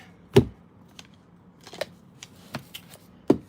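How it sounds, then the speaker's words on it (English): A deck of Wild Unknown archetype cards being handled and shuffled: a handful of sharp, dry snaps and taps spaced irregularly over a few seconds, close and fairly quiet, with no voice. "Let's get some shuffles on this deck."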